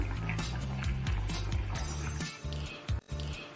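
Water pours and splashes continuously as it is drained off boiled tapioca, a steady gurgling flow up close with brief pauses near the end.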